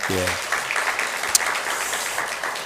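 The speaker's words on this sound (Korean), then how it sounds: "우리 박수 한번 크게 해주세요" A church congregation at a Sunday morning service gives a round of applause to welcome a newcomer. The clapping is soft and somewhat distant, and a voice is heard briefly at the start.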